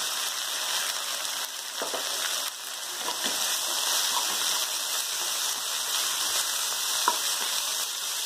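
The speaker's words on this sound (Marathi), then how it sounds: "मेथी, मेथी 1-2 मिनिट तेलात छान भाजून घ्या" Fenugreek (methi) leaves frying in hot oil over a high gas flame, a steady broadband sizzle that runs unbroken and fairly loud throughout, with faint stirring scrapes now and then and no voices.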